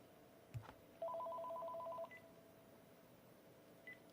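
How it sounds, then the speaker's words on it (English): A faint telephone tone sounds for about a second after a soft click, followed by two brief electronic beeps against a quiet background. "Dial tone."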